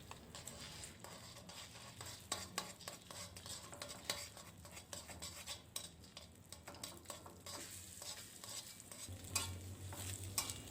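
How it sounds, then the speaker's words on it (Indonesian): Beaten eggs are scrambled in hot oil, with rapid, busy spatula clatter and scraping against the pan over a continuous soft sizzle, heard close but at low volume. "Telur ini akan saya orak-arik dulu teman-teman."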